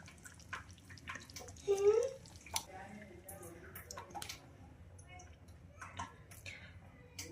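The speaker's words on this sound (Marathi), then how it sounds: "छानपैकी भाजीला उकळी आलेली आहे" Soft bubbling and gurgling of a soybean chunk curry simmering in a pot, quiet and steady, with a voice briefly speaking over it near the start.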